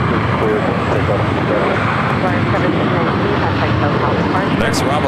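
An Airbus A380 jet taking off at LAX produces a loud, continuous, broadband engine roar that stays dense and unbroken from start to end.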